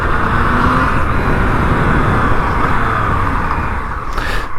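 Yamaha MT-09 motorcycle from 2020 with the stock exhaust, a loud, steady engine drone mixed with wind and road rush while riding.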